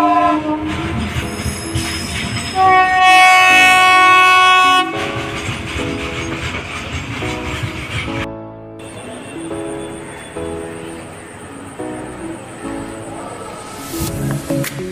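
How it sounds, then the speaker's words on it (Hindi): A passenger train pulls out of Guwahati station bound for Lokmanya Tilak, loud and close, with a long blaring horn, squealing wheels and rhythmic clickety-clack of wagons rolling past, ending in a high shrill whistle. "तो एक ट्रेन गई यहाँ से गुवाहाटी से लोकमान तिलक के लिए।"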